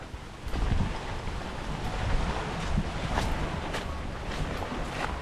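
Strong wind buffets the microphone in loud, continuous gusts and rumbles, with a constant rushing roar and no voices.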